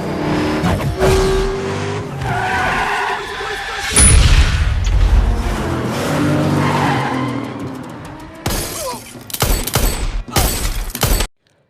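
A movie road chase, with cars skidding and engines roaring, a crash and shattering impacts as a bus slams into a mafia car; the sound is loud and dense, with sharp bursts toward the end.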